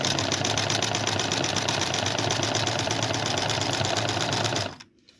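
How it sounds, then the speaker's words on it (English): A Singer 6215C sewing machine runs a zigzag stitch in a fast, even mechanical whir, close and continuous, then stops abruptly near the end. "Number 4 will give us a zigzag."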